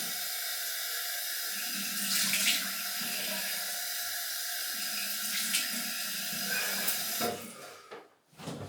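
A tap runs steadily into a sink while a shaving razor is rinsed under it, a continuous close hiss of water with slight splashing changes, cutting off near the end.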